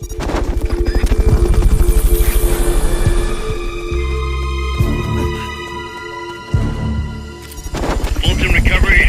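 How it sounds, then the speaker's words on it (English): Rotor thump of the Fulton recovery helicopter in Metal Gear Solid V, a loud steady chopping that runs through the whole stretch, mixed with game music tones and a brief dip partway through. "Fulton recovery subject confirmed onboard helicopter."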